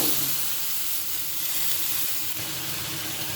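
Fish hits a pan of well-fried spiced masala and hisses with a loud, steady sizzle that barely changes throughout, with no voices.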